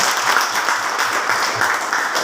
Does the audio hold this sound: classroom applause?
yes